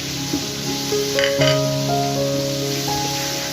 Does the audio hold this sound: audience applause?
no